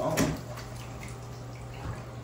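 Water runs from a tap into a bathtub, a faint steady flow with a few drips and splashes, heard on its own without talk.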